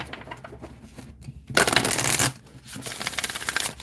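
A deck of game cards is riffled side by side in two quick bursts, crisp fluttering snaps up close, with a brief pause between shuffles.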